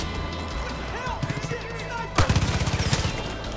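Rapid bursts of gunfire in the video game Far Cry 5 break out midway, a string of punchy shots after a stretch of quieter game sounds and effects.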